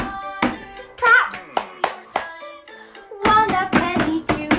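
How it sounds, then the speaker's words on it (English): Sharp hand claps from a children's Easter singing session in a home kitchen setting, a handful of distinct claps spaced irregularly, with sung or spoken voices and harmonic tones between them. "Clap."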